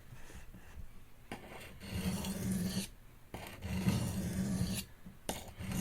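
Steel file rasping along a recurve blade edge in repeated passes to raise a burr, three or four sustained scraping strokes with brief pauses between them, close and steady with no talk.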